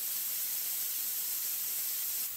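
Air rushes out of a tire through the open valve stem after its core is removed, a steady, fairly quiet hiss that holds constant before cutting off near the end.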